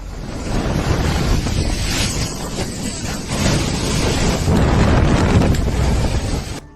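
Loud, continuous rush of ocean water surging along the coastline and washing over land, mixed with wind buffeting the microphone; no voices.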